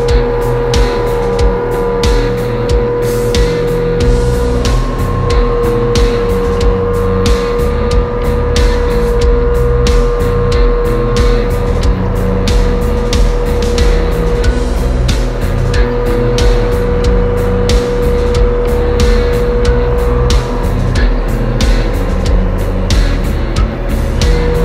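Kubota tractor engine drones steadily nearby as it drives in, a continuous loud rumble with repeated clattering knocks running through it, no talking.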